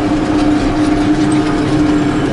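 A tractor engine runs steadily inside the glass-walled cab, giving a loud, constant low drone with a steady hum and no breaks.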